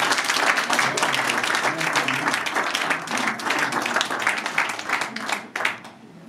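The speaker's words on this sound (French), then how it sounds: "Sous vos applaudissements." A crowd at a charity cheque presentation for a women's race in a Dijon park breaks into sustained, dense applause that holds steady for several seconds, then thins and fades out at the end.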